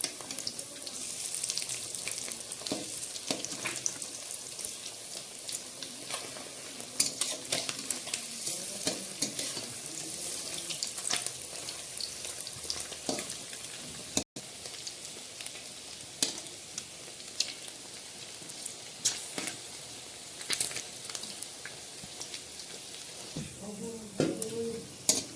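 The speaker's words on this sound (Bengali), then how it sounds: "পকোড়াটা ভাজা হয়ে গেছে আর খুব সুন্দর দেখতে লেগেছে" Pakoras made from chicken skin sizzle and crackle steadily in hot oil, with intermittent stirring and scraping clinks and a quiet, close, continuous bubbling throughout.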